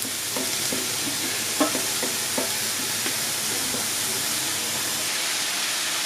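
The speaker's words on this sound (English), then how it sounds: "I'm doing it on a medium to high heat so the spinach doesn't boil for me" About two cups of spinach sautéing in a pan over medium-high heat, with a soft, continuous sizzle and hiss, a few clicks and scrapes of stirring near the start, and no talking.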